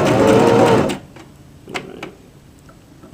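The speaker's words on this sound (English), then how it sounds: "And then I'm going to pull out my pin and sew a long base stitch." A sewing machine hums steadily for about a second while sewing a long basting stitch on a wrap skirt toile, then stops, followed by a few faint clicks and handling sounds.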